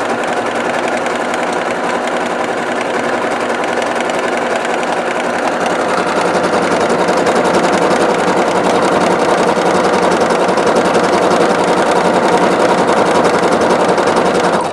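A Singer SEQS 6000 sewing machine runs steadily at full speed while stitching with metallic thread, producing a dense, continuous mechanical whir that stays loud and unbroken throughout.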